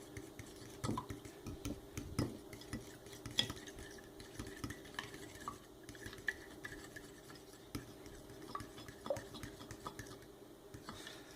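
A fork beats eggs and seasonings together in a bowl for an omelet, producing steady rapid clinking and scraping taps against the bowl, close and moderately loud throughout.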